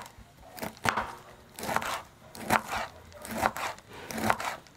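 Knife chopping tender coconut flower cluster, five or six crisp crunchy cuts at a steady rhythm, close and moderately loud with no voices.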